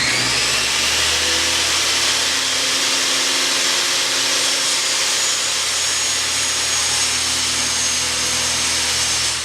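A power saw cuts through an MDF board for a drum sanding table, a loud, steady high-pitched whine that runs unbroken for the whole stretch, close up with no talking.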